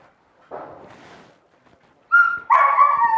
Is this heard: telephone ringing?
no